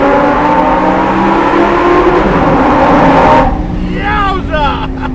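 Lamborghini Performante Spyder in Corsa mode accelerating hard through a tunnel: loud, close engine roar climbing in revs, then abruptly easing off with a crackling, burbling tail.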